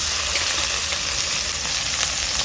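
Spice paste with tomato, ginger paste and asafoetida sautéing in a pan, giving a loud, dense, continuous sizzle that holds steady throughout with no breaks or voices.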